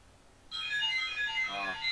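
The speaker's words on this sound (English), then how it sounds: "That's my phone." A mobile phone ringtone suddenly starts ringing, a bright, repeating electronic melody that continues steadily and fairly loud after a moment of quiet room tone, heard during a game demo stream.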